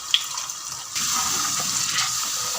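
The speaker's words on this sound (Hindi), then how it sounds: "अब इसमें तकरीबन 1 कप हम पानी डाल देंगे।" Water in which chickpeas were boiled is poured into a chickpea curry, a steady rushing gush lasting under two seconds after a brief faint clink, fairly close and alone.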